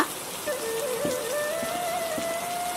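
Steady rain hisses across the whole stretch of a Bengali cartoon, with a few soft drip-like taps and a thin sustained tone running underneath.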